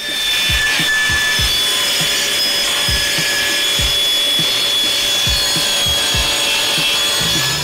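Thick wood pieces being sawn in a garage, a loud steady cutting noise with repeated rhythmic strokes running throughout, near and alone with no talk.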